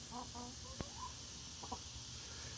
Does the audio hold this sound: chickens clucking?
yes